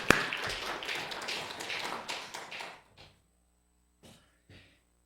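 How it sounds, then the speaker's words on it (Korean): A church congregation claps together in a dense burst of applause for a few seconds, which then thins to a handful of scattered claps and falls quiet. "우리 박수로 하나님께 영광드리겠습니다."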